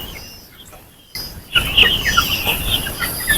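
Young male chickens, 56 days old, cluck and squawk close by in a burst of busy farmyard noise, following a quieter stretch with faint rustling.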